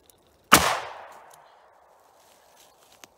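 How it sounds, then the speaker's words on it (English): A single loud, sharp gunshot from a heavy Buffalo Bore .38 Special round fired into a water jug, with a long, fading ring-out afterwards and a faint click near the end. "I'm going to set up and try to shoot another one before that jug leaks out entirely."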